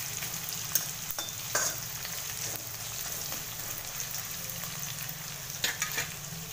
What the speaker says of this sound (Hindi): बस हल्का सा फ्राई हो जाए, इसका क्रंचनेस खत्म नहीं हो।